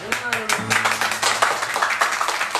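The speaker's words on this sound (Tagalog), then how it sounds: "Siyempre, lagyan natin ng palakpak." Hands clapping along to a campaign jingle for a council candidate, a rapid run of claps up close with voices talking and singing over them.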